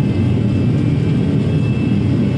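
Airbus A320 on its takeoff roll heard from the cockpit, a loud, steady engine roar with a constant whirring hum and no speech.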